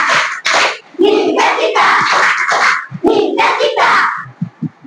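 A group of children claps a dance clap rhythm by hand in a classroom, the sharp claps mixed with loud chanting voices in short bursts, then a few softer taps at the end.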